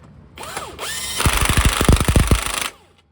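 A power tool whirs up and rattles through a burst of rapid impact hammering, tightening the harmonic balancer bolt on a Magnum 5.2/5.9 engine, then winds down and stops.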